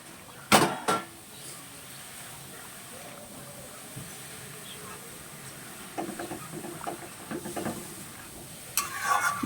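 A pan of tilapia fish curry is stirred, giving soft scraping and clinks over a faint simmering hiss, with a few louder knocks at the start and end.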